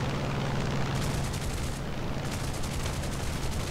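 Aircraft guns fire in War Thunder during a dogfight with an F6F-5N night fighter, a loud rumbling engine drone with rapid bursts of cannon fire crackling over it.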